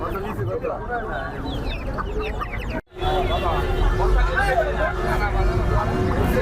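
Light Brahma chickens cluck among other poultry at the busy Kaptan Bazar market, with steady crowd babble and people talking nearby throughout.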